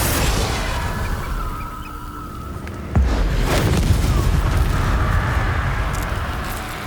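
Confringo spell blast in the video game Hogwarts Legacy, a single sudden boom midway through over a steady rumbling combat background.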